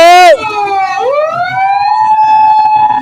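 A loud, close ambulance siren wails at a rally crowd in Islamgarh, Mirpur, its pitch sliding down and then climbing back into a steady high tone.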